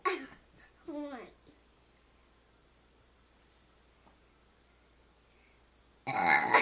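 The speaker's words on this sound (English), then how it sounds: "just burp already" A six-year-old child lets out a couple of loud, drawn-out burps at the start, then a quiet pause before a burst of laughter or a voice at the end.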